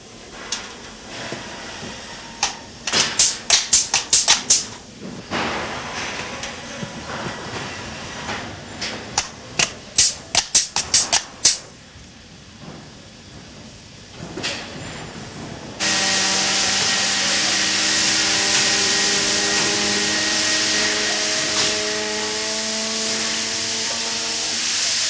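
Pneumatic machine flanging the tongue of a stainless LNG tank membrane, with sharp bursts of hissing and clattering early on, then a continuous loud hiss and hum.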